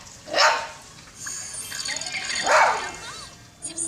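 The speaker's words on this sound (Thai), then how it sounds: "หมาแถวบ้านก็เห่านะครับท่านผู้ชม" Dogs bark in a residential neighborhood, with two or three distant yips and barks spread over a few seconds. Someone talks over them at the same time.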